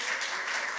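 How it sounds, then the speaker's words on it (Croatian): Brief, steady burst of audience applause for an actress and activist at a women's weekend event, an even wash of many hands clapping, moderately distant. "Jedan aplauz za Jelenu"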